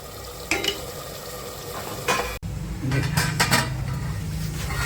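A spoon stirs a curry of pigeon pea beans in a pan, giving several scraping, clinking strokes over a soft sizzle of oil.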